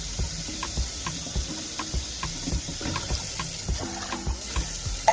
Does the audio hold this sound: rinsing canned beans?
yes